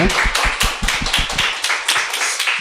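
A church congregation claps briskly and steadily, the sharp hand claps coming fast in a close, continuous burst of applause with no voices.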